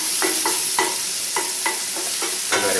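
Mushrooms frying and being stirred in a pan, a steady close sizzle broken by repeated scraping stirs roughly every half second.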